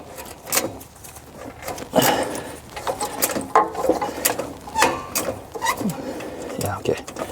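A wrench works a NOx sensor back and forth on a Mercedes Sprinter, giving repeated metallic ratcheting clicks and scrapes close up, with someone talking over them.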